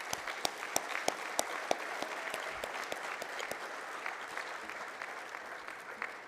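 Steady applause from an audience at a green hydrogen award ceremony in Namibia, welcoming award recipients onto the stage; dense, continuous clapping with sharp individual claps standing out near the front.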